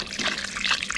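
Water runs from a tap while whitebait are washed in a sieve, a close, steady hiss and splash lasting a brief moment.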